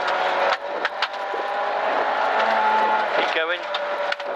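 Rally car on slick tyres tackling a stage, its engine droning loudly and steadily with gear changes and revs shifting, while people talk over the noise.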